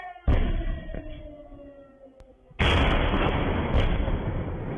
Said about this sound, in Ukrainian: Серед ночі у Миколаєві лунають вибухи.